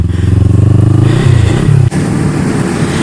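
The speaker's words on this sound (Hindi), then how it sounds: "बाइक को निकालते हैं पार्किंग लॉट से बाहर और आगे चलते हैं।" A lowered Kawasaki Ninja 300 idles loudly and close by, then its engine note rises briefly as it pulls out of a parking lot, with a short clatter before it settles.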